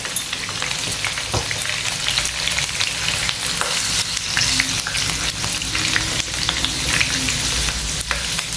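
Cumin seeds and finely chopped green chillies sizzle and spit steadily in hot oil for a masoor dal tadka, a loud continuous frying hiss with occasional stirring scrapes, no voices.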